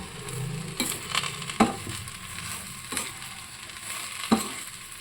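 Okra fries in a pan over a high gas flame, a steady faint sizzle broken by several scraping stirs at irregular intervals, with no voices.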